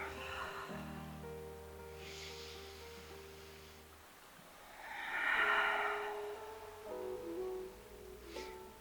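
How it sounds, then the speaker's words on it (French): Two slow, deep yoga breaths, each a long airy inhale and exhale through the nose, close and soft over faint background music, with no talking. "On prend un moment pour se poser et prendre 2 grandes respirations."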